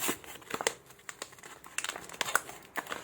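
Plastic and cardboard packaging of a blue Porsche 935 toy car being opened, crisp crinkling and crackling in quick irregular bursts, close up with no talking.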